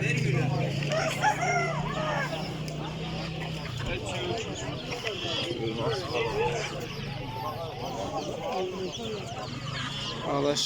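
Roosters crow amid a busy Turkish animal and bird market in Adana, with clucking fowl and constant overlapping chatter from traders and visitors close by.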